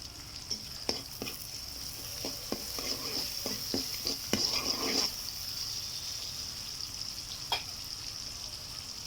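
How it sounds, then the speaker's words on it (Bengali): Beans and potatoes frying in oil with onion on a wood-fired stove. There is a soft, steady sizzle with a run of scraping stirs and clinks in the first half, then quieter frying. "আমার সিম দিয়ে আলু ভাজা করা শেষ।"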